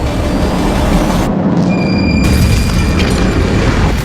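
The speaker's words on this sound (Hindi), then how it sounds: "ये यमन की राजधानी सना पर हुए हमले का वीडियो है, जिसमें एयर स्ट्राइक की आवाज साफ सुनी जा सकती है।" Airstrike explosions over Sanaa, Yemen, form a loud, continuous low rumble of deep booms and blasts across the whole stretch, with a momentary dip and scattered crackling, and no clear voices.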